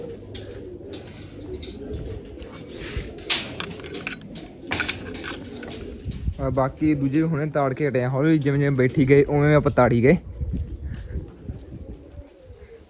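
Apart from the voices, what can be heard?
pigeons cooing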